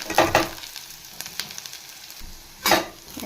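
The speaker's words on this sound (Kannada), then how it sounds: "ಈಗ ಮಿಕ್ಕಿರೋ ಪದಾರ್ಥಗಳನ್ನೆಲ್ಲ ಸೇರಿಸ್ಕೊಂಡು ಫ್ರೈ ಮಾಡ್ಕೊತಾ ಇದ್ದೀನಿ" Garlic and masala frying in a pan for mutton chops, a soft steady sizzle with louder bursts of stirring near the start and again toward the end.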